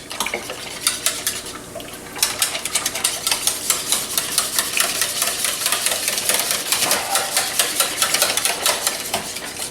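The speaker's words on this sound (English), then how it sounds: "Get everything whisked" Breakfast casserole ingredients are whisked in a bowl, a rapid, steady clatter of whisk against the sides running almost continuously at close range, alone with no talk.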